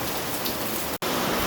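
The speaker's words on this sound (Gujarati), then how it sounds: "વરસાદ ફૂલ થઈ રહ્યો" Heavy rain drums down outdoors in a loud, dense, close hiss of drops, broken only by a split-second dropout.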